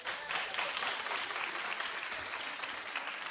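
A daytime talk show studio audience breaks into clapping, a thick continuous patter of many hands that stays level and fairly quiet from start to finish.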